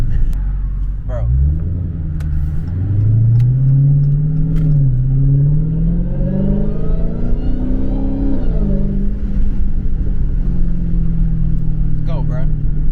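A Dodge Challenger Hellcat pulls hard under acceleration, a deep engine rumble rising in pitch with a high supercharger whine layered on top, loud and close from inside the car, steady for several seconds.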